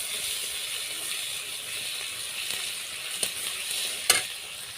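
Ginger and garlic paste sizzles steadily in hot oil for a Bengali potol curry with tilapia, a soft continuous frying hiss broken by a couple of brief sharp crackles near the end.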